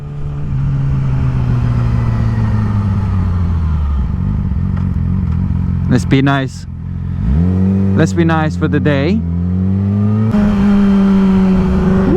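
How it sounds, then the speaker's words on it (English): A Yamaha R6 600 sport bike engine runs loud and close, holding steady tones, then revving sharply up and down in several quick bursts before settling back; a rider speaks briefly over it. "I love the sound of this bike."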